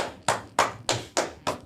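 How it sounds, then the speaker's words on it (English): A single person claps hands in a slow, steady rhythm, five sharp claps roughly a third of a second apart, close and clear with no talking. "Big long clap for you."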